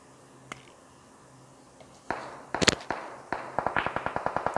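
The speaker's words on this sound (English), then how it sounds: "Maybe some of these shots will lure him in" Gunfire in PUBG Mobile: a few scattered sharp cracks at first, then a steady, rapid string of snappy shots near the end, loud and dry with no voices over them.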